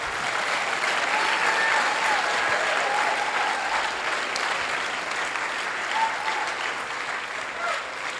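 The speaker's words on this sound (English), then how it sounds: "Let's give all of our winners one more big round of applause." Sustained applause from an outdoor audience at a storytelling liars contest during Mule Day festivities, steady dense clapping that holds for the full stretch with faint crowd murmur and no one speaking over it.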